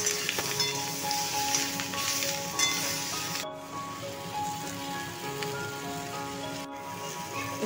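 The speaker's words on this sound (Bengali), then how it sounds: "এইবার ভেজে রাখা ক্যাপসিকাম আলু ওর মধ্যে দিয়ে ভালো করে নেড়ে চেড়ে নেব" Capsicum and potato being stir-fried with fried onion in a pan, a soft continuous sizzle like light rain with faint stirring scrapes, fairly quiet and unbroken except for two very brief gaps.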